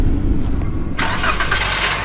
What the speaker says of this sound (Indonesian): Coba starter lagi deh, coba deh.